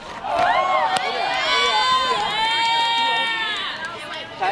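Softball crowd at a national showcase game in Dallas erupting in loud, sustained cheers, shouts and whistles, children's voices rising above the noise, swelling and holding for several seconds before easing off.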